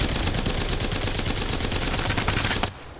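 Rapid automatic gunfire from a no-scope gun in a video game rattles in a dense, unbroken burst for over two seconds before cutting off abruptly, loud and close with no voices.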